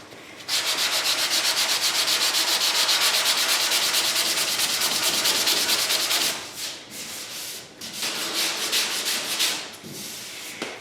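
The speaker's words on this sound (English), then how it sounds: "this is the most tedious part of doing bodywork, is block sanding" Block sanding body filler on a Mustang Mach 1 deck lid and quarter extensions: a loud, steady abrasive rasp of rapid back-and-forth strokes for several seconds, then a pause and choppier, uneven bursts of sanding.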